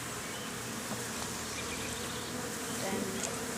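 Honeybees buzz in a steady, dense drone around an open beehive during an inspection, a close, continuous hum that fills the whole moment with no pauses.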